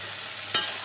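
Taro flowers sizzle steadily in a hot pan, with a brief stirring scrape partway through.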